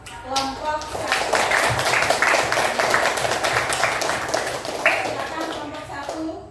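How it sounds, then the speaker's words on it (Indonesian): A classroom of students claps for a presenting group, a dense burst of applause lasting several seconds with children's voices mixed in beneath it. "kita berikan aplaus kepada kelompok 1"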